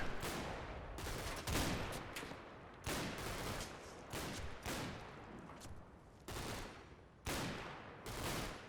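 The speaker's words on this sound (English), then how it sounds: "I do believe the machine gunner is still active in his building." Machine gun fire in the Combat Mission: Battle for Normandy video game, quiet and distant, coming in repeated bursts about a second long separated by short pauses.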